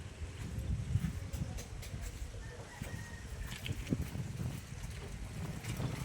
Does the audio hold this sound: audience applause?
no